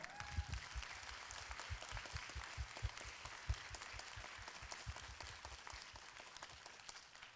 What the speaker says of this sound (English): let's give a round of applause to the graduating class of